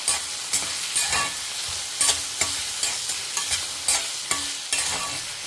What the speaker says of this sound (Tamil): நான் பச்சை மிளகாய்க்கு பதிலாக வத்த மிளகாயை போட்டுக்கிறேன்.